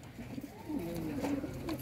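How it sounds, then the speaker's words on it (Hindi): Pigeons cooing in a breeder's pigeon setup, giving soft, low, rolling coos close by over a faint murmur of background noise. "काफ़ी देखें यार कबूतर इकट्ठे किए हुए इन्होंने"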